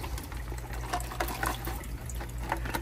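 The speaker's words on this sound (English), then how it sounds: "So now all I have to do is rinse out this pre-filter." Water pours out of a container as an aquarium pre-filter from a Neocaridina shrimp tank is rinsed, giving a steady, close splashing flow over a low background hum.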